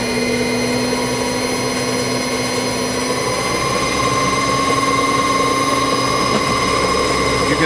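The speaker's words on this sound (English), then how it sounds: "hear the generator running. It's dead quiet, no vibration." StarPower 10 kW generator running at about 1,088 RPM, a steady loud whine with constant tonal hum and no change in pitch or level throughout.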